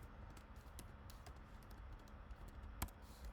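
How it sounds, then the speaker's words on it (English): Faint, sparse key taps as numbers are entered on a computer keyboard in a quiet room, a few soft clicks spread out with one sharper tap near the end. "I'm going to type 1543"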